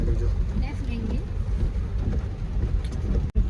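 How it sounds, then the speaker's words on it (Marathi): Steady heavy rain drums on a moving vehicle, a constant wash of noise with a low rumble underneath and a brief dropout near the end. "पाऊस आहे ना कंटिन्यूस पाऊस आहे"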